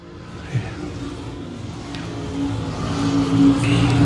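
Three stock cars run nose to tail at I-35 Speedway, engines droning close by and swelling louder as the pack draws nearer.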